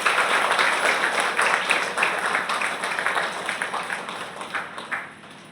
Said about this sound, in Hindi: नारी शक्ति के लिए एक जोरदार तालियां खुद के लिए बजाइए